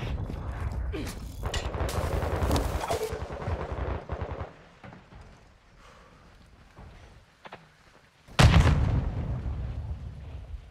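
Explosive charge detonating on its target in a 2v2 search-and-destroy video game round: loud, booming blast that hits suddenly after a quieter lull, preceded by rapid gunfire and mechanical game noises.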